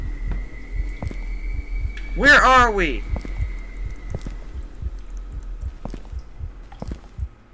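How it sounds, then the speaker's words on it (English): A heartbeat sound effect in the video game Ildefonse thumps in a steady, close rhythm, joined briefly by a sweeping whoosh, while someone speaks a few words over it. "if my heartbeat's coming down, you know something's gonna go bad right now"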